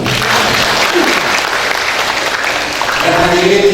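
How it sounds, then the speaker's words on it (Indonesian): Ibu-ibu Posyandu health cadres at a community gathering in Dumai Selatan break into sustained, dense applause from a large indoor crowd, steady and loud throughout, with a few voices murmuring underneath near the end. "kita tepuk tangan dulu lah."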